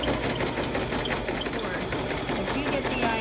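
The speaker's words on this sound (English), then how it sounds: "you're gonna sew from one end all the way down to the other" A sewing machine stitches along the bottom edge of a snug fabric face mask, making a steady, rapid mechanical whirr that runs without pause, close up.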